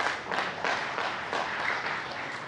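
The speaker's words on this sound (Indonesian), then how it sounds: "Mari kita tepuk tangan nih." A studio audience at an Indonesian talk show breaks into steady applause, a dense wash of many hands clapping at moderate distance that carries on evenly.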